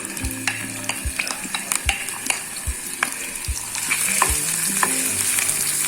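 Ginger garlic paste frying in hot oil in a pan gives a close sizzle, broken by regular knocks and scrapes of a spoon stirring, and the hiss grows fuller toward the end.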